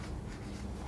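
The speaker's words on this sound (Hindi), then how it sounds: "यहां पे मैं इसकी डेफिनेशन लिख भी देता हूं।" A pen or marker writing a definition by hand during a physics lesson, a short steady scratching stroke against a constant background hiss.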